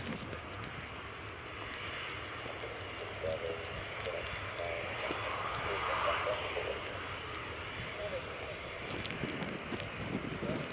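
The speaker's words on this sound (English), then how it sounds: "after the aircraft behind us will push and start it" Aircraft engines droning at Newcastle International Airport during stormy weather, a steady broad roar with wind noise that swells slightly midway, with a voice speaking over it.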